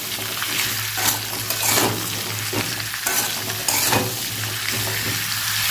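Potatoes and green chillies fry in hot oil for a vegetarian Bengali alu posto, a steady close sizzle broken by repeated scraping stirs, with no voices.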